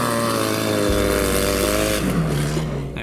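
A Subaru WRX STI with a cracked header driven hard on laps, its engine a loud continuous rough roar that climbs and shifts pitch, with a rattly exhaust edge.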